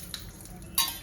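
Urad dal hits hot oil for a simple dosa chutney, giving a soft sizzle with a few faint stirring clicks and a louder burst of crackling near the end, close by and with no voices.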